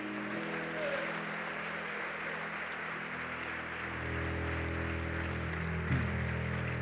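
Audience applause honoring Jesus, a steady, dense wash of clapping that runs unbroken through the whole stretch at moderate loudness, swelling slightly toward the end with no voices over it.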